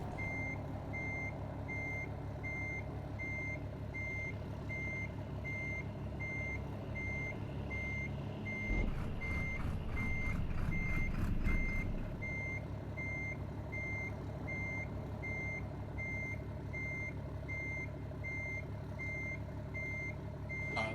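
A truck in American Truck Simulator backs up with steady, evenly spaced reversing beeps that repeat throughout over a constant low engine drone, with a short burst of louder rumble partway through and no talk.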